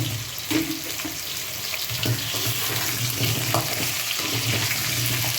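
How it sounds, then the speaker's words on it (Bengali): Potatoes sizzle and fry in hot oil while a peas chicken curry is being cooked, a steady crackling hiss running close and continuous throughout with faint stirring clatter. "অল্প অল্প করে তেলে ছেড়ে দেবো। তেলটা গরম হয়ে গেছে।"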